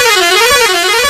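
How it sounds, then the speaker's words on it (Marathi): A truck's pressure air horn blares very loud and close, one continuous honk with a slightly wavering pitch that lasts the whole moment. "प्रेशर हॉर्न ध्वनी प्रदूषण तर होतच, पण बहिरेपण बी येतं."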